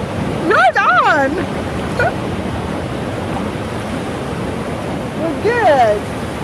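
Steady broadband roar of ocean surf at an Oregon beach, fairly loud and continuous throughout, with excited human voices rising over it near the start and again near the end.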